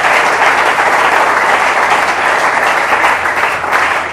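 A church congregation claps and applauds the Lord in steady, dense applause that fills the room from start to finish, loud and sustained with no voices rising above it.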